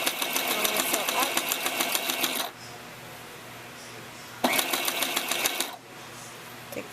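A sewing machine stitches a tutu purse in two bursts of fast, buzzing mechanical whirring, the first about two and a half seconds long and the second shorter after a quiet pause, close and fairly loud.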